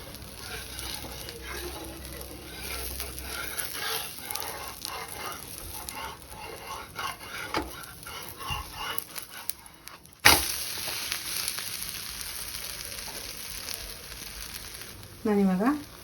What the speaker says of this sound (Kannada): ಇವಾಗ ಇದನ್ನು ಇನ್ನೊಂದು ಸೈಡು ಹಿಂಗೆ ತಿರುವಾಕೊಂಡು ಚೆನ್ನಾಗಿ ರೋಸ್ಟ್ ಮಾಡ್ಕೊಳ್ಳೋಣ